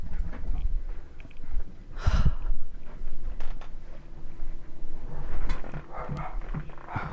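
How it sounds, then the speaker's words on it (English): A very small dog barks and growls with loud, gruff outbursts, one sharp bark standing out among rougher noises near the mic, heard alone without talk. "I've got a very small dog that thinks he's a lion. As you might be able to hear."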